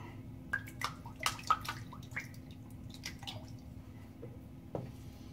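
A razor blade is warmed in water before shaving, giving faint, irregular drips and small splashes against quiet background hum.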